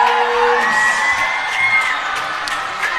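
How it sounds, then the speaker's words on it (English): Basketball crowd at an NBL1 men's game makes noise during a timeout, a continuous roar of whoops, cheers and children's shouts with occasional sharp yells rising over the din. "Watkins, make some noise if you want a t-shirt."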